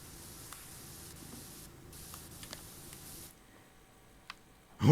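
Power washer spraying in PowerWash Simulator: a steady hissing jet for about three seconds, then it cuts to near silence and ends with a sudden loud thump.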